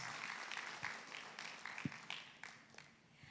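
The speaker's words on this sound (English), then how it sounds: "Please give a big round of applause." Faint, scattered applause from a conference audience at a maritime development event, soft and distant with a few sharper claps standing out.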